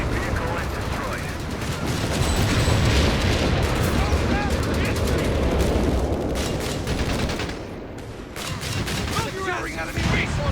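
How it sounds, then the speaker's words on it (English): Company of Heroes 3 battle din with MG-42 machine gun bursts and an artillery barrage, a dense continuous roar of gunfire and explosions under shouted soldiers' voices, loud and close throughout. "Artillery barrage underway. Contact! MG-42!"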